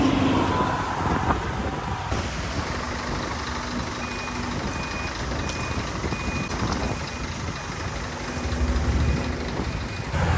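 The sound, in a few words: buses or builders' trucks passing outside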